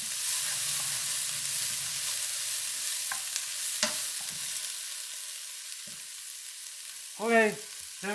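Ginger shrimp fried rice sizzles steadily in a hot pan while being stirred, with scattered scrapes and clinks of the utensil and a brief louder scraping near the end.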